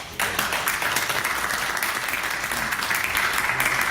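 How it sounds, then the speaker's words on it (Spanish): An audience applauds at a presentation on tropical Andean forest restoration, a burst of clapping that starts abruptly and holds steady and full for several seconds without speech. "quiero pedir un fuerte aplauso para Manuel Guariguata para entrar en la pre"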